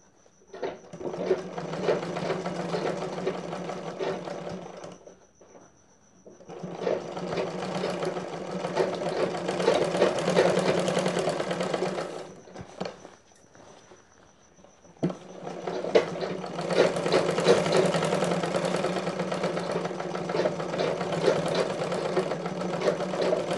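A sewing machine runs a double line of stitching to fit a blouse sleeve, whirring steadily in three long runs separated by short pauses, close and loud.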